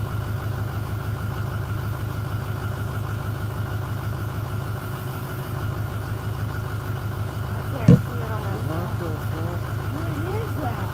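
A steady low truck engine rumble idles continuously in the background, with a brief sharp knock partway through and faint voices over it.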